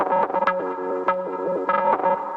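A pitched-up acid synth line time-stretched in Ableton's warp mode warbles in short repeating buzzy notes with echoing, smeared attacks, played alone and fairly loud.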